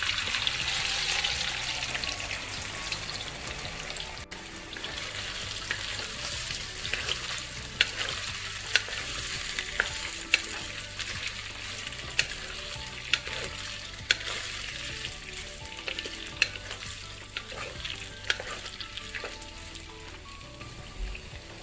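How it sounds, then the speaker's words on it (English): Panch phoron, a blend of five Indian whole spices, sizzles and crackles in hot oil, a bright continuous frying hiss with scattered pops and occasional stirring clicks throughout. "I want to make sure the oil is heated before I add my first ingredient, which is panch phoron"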